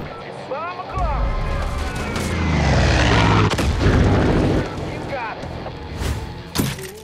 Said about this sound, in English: Kill that mortar, head to higher ground, start blowing stuff up while Nick brings down the fury.